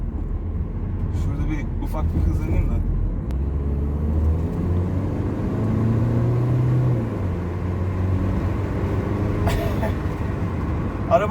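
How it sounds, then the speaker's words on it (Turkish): An Opel Crossland car with a turbocharged engine accelerates on the road, a steady low engine drone and road rumble heard from inside the cabin, with people talking over it. "arabanın hızlanması çok hoşuma gidiyor ya. Yani turboya geçti mi çok güzel geçiyor, şanlanıyor."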